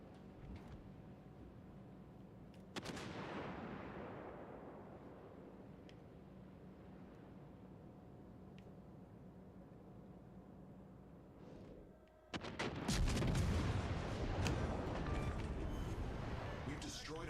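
Battleship guns fire in World of Warships Legends with a deep, rumbling blast that swells and decays, first a softer boom, then a much heavier, broad roar near the end, under a low steady background drone.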